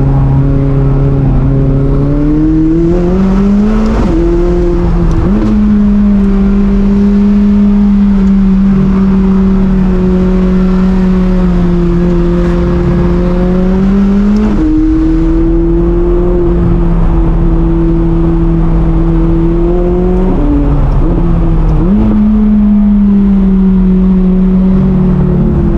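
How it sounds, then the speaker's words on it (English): McLaren turbocharged V8 revving while driving, a loud sustained engine drone that climbs and settles through repeated gear changes, heard close from inside the car with no talk. "Because it's a turbocharged V8. But nonetheless, once you start winding it out, the car comes alive"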